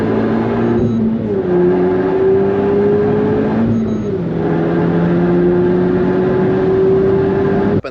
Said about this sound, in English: just did a lap in the Megane R.S Trophy R